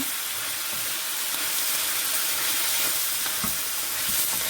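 Chicken, prawns and bean sprouts stir-fry in a hot pan for a Nigerian-style chow mein, giving a steady loud sizzle with occasional clinks and scrapes of stirring, no talking.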